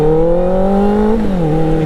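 A motorcycle engine held in first gear while riding, a loud, close, steady drone whose pitch rises slightly, dips, then settles lower near the end, with no voices.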